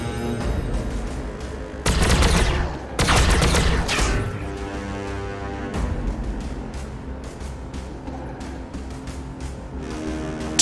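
Plasma fire support barrage in the Warhammer 40k: Battlesector video game, loud bursts of gunfire and booming impacts with a dense cluster early on, followed by rapid sharp shots and crackling over a steady rumbling background.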